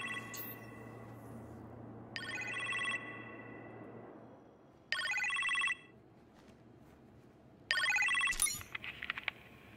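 A telephone rings in an Iron Man video game, giving three short bursts of electronic trilling ring separated by quiet gaps over a low background hum.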